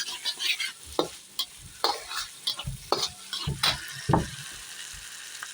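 Chopped garlic sautés in a pan, a soft sizzle broken by a run of sharp stirring scrapes and taps from a utensil at irregular intervals.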